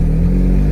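Car with a Honda D16Y8 engine accelerating, a steady low engine drone with a strong hum that holds for a brief moment without any voices.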